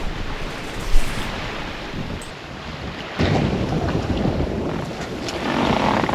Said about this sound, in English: I'm on the Chesapeake Bay, just having a sailing day.